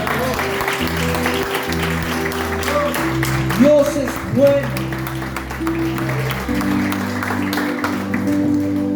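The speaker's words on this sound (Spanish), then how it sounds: "¿Cuántos pueden celebrar a Dios ahí con un aplauso?" Congregation applause at a church service, celebrating God, a broad wash of clapping that sits under sustained worship music and a preacher's voice speaking over it.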